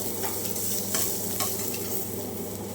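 Coriander seeds, black pepper, garlic and ginger roasting in a pan for coastal-style prawn sukka, a steady close sizzle with a few light scrapes of stirring and no talking.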